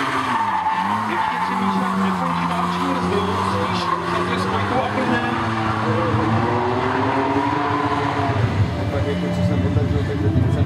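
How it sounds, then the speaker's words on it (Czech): Drift car at a Czech Drift Series competition, engine droning and tyres squealing through a long slide, steady and loud throughout, with a commentator talking over it. "Tak Míšo, pojďme do toho, ukaž nám, že umíš driftovat."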